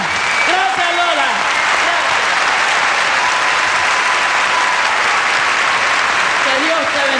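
A large audience applauds steadily and loudly at a performance honoring a flamenco singer, the clapping dense and unbroken throughout, with some voices calling out beneath it.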